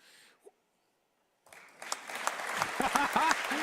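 An audience at Mike Braun's first State of the State address bursts into applause after a brief near-silence, the clapping swelling quickly into a loud, sustained ovation with some voices mixed in.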